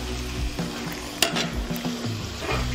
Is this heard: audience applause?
no